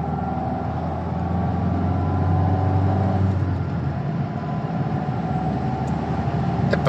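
Steady drone of a Renault Clio 1.5 dCi diesel running while driving, heard from inside with low rumbling road noise that swells slightly and then settles.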